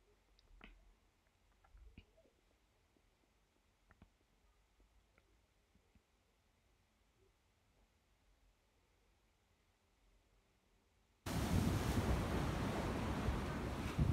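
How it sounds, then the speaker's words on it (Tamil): Big ocean waves and strong wind at Millendreath Beach in Cornwall, a faint breezy hush that abruptly becomes a loud, continuous roar of surf and wind buffeting the microphone. "எண்டு வரைக்கும் வந்து யாரும் போய் நிற்கவும் நிற்க பயங்கர அலையும் காத்தும் கலந்து இருந்துச்சு"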